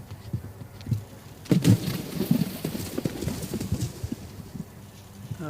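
Horse galloping and landing on a grass cross-country eventing course at a junior European championship, rhythmic hoof thuds and clip-clop passing nearby, growing louder midway, with faint commentary behind.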